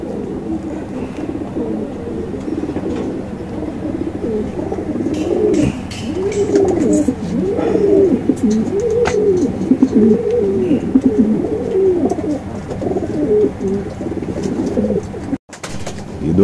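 Pigeons coo in a loft or coop, with repeated low, rolling calls that overlap one another, loud and close over a constant background hum.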